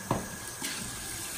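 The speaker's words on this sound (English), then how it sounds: "Use hot water to get all the lather out" Hot tap water runs in a steady, faint hiss, rinsing lather out of a puck of shaving soap, with a brief clink of the container near the start.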